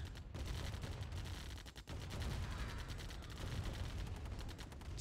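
Dense video game battle gunfire, rapid machine-gun bursts and shots layered into a continuous rattling barrage, fairly loud with a brief break near the two-second mark.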